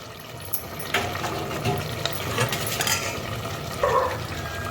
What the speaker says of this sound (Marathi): आणि मग आपल्याला गरम पाणी ओतायचं आहे.